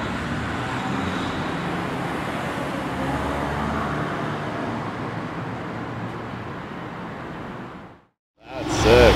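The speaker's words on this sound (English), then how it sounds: "AMG GTR Roadster" A Mercedes-AMG GT R Roadster drives by amid roadway noise, its broad engine and tyre roar holding steady for several seconds before cutting off sharply, with other traffic behind.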